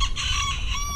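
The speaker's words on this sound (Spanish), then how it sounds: "Acá abajo tengo los pollos de raza ponedora" Laying-breed chickens clucking and crowing close by, a steady layer of farmyard bird calls over low background rumble.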